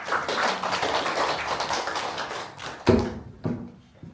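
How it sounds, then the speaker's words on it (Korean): A group at a church officer training session gives a round of applause: steady, close clapping that tails off after a few seconds into a couple of isolated taps. "없으시면 박수 하겠습니다"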